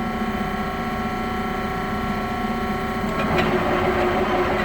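A Heyligenstaedt 400A/30 lathe, 32 by 222 inches, runs its clutch drive and gears with a steady, close mechanical whir and hum that swells slightly toward the end. No voices are heard.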